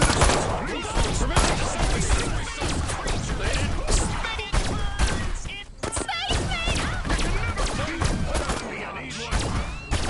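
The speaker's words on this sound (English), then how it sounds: "So I'm unlocking your disintegrator ray. Try it out on the fuzz." A disintegrator ray fires at police in the remastered Destroy All Humans on PS4, dense crackling blasts mixed with crashes and thuds that run continuously throughout. Voices talk over the chaos.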